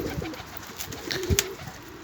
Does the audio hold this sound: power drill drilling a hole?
no